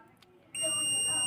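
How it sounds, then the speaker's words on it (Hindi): A multimeter gives a continuity beep while testing a fuse removed from a DTH satellite receiver: after a quiet moment, a sharp, steady high-pitched tone starts and holds loud and close until the end. "से हमें इस तरीके की बीप मिलनी चाहिए, मतलब हमारा फ्यूज बिल्कुल ओके है"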